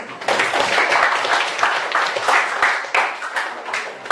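Classroom applause for a student group, a dense patter of many hands clapping fairly close for several seconds, rising and falling in small waves.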